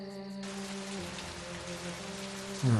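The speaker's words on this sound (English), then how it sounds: "Just a drizzle." Light drizzle falls in the Agatha Christie PC game And Then There Were None, a steady soft hiss of rain under sustained musical tones, with a brief louder low thump at the very end.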